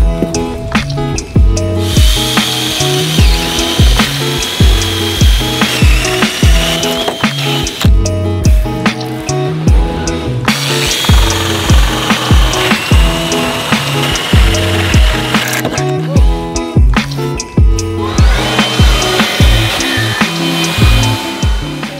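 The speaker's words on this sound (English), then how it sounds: "we'll go ahead and drill those with my little mini hole saw" A small powered drill runs in loud, repeated bursts as a mini hole saw grinds through wooden boards, with brief pauses between cuts.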